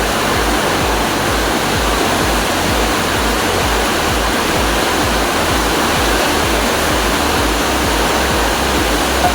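Water pours steadily into a cooking pan to soften the food, a continuous loud rushing splash with no pauses and no talking.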